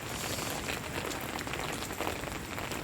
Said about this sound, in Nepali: यो चाहिँ असिना